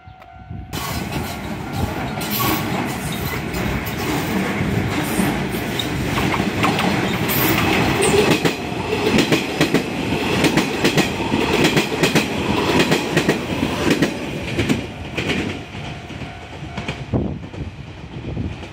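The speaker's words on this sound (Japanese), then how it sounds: "こちら来ましたね特急列車来ましたね" A Nishitetsu express train rushes past close by at Futsukaichi Station, a loud rolling roar with clattering wheels and squealing that builds and then fades toward the end.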